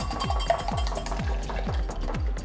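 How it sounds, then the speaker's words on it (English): Two eggs are whisked in a bowl, giving a steady, rhythmic swish with repeated light clinks of the whisk against the sides, close and moderately loud. "whisk that up"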